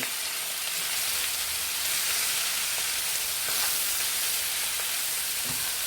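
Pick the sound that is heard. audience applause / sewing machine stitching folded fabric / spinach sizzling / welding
spinach sizzling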